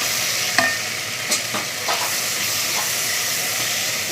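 African-style fish filling for pastels is mixed in a pan under a continuous steamy hiss, with a few soft scrapes and taps of the spoon near the start.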